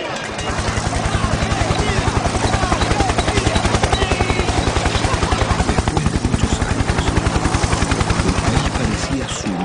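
Helicopters leaving a presidential palace give a loud, steady rotor chop, a fast even beat that holds for the whole stretch with no pause.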